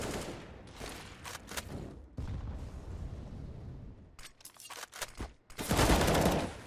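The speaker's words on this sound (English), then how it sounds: "Shots ring out" Gunfire in a competitive CS:GO match rattles in rapid bursts and scattered single shots, loud and close, with pauses between volleys and a heavy final burst.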